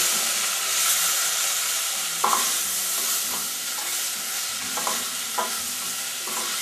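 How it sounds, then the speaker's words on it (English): Potato flour is stirred into a corn soup mixture in a pot, giving a steady hissing sizzle with soft scraping strokes of a utensil repeating every second or so, close up and with no talking. "And now we add about 1 tablespoon of flour, basically any kind of flour. I'm using the potato flour here though. And stir that all around."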